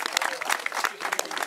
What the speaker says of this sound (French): C'est à voir, on l'applaudit, Ronan Villiers, Vélo Club de Saint-Malo